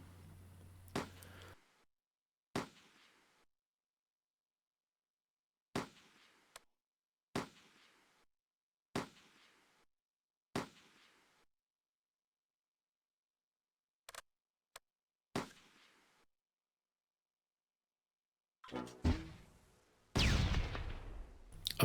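Mortar rounds fire in the World War II tactical game Close Combat: A Bridge Too Far, set in the Schijndel dunes during Operation Market Garden, a series of sharp separate reports spaced by silence, ending in a louder cluster of blasts.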